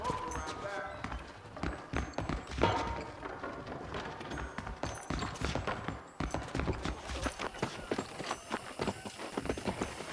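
Rhythmic clip-clop of horse hooves at a walking pace in the video game Red Dead Redemption, fairly close and steady, with a voice talking briefly over the footfalls.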